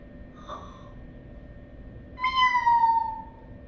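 A kitten gives one clear, drawn-out meow near the end, loud and close, after a faint breathy squeak earlier; no talking.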